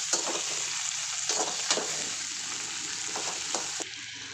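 Onions frying in oil for a Tulu-style masala, a continuous bright sizzle with occasional stirring scrapes, close and steady, no voices.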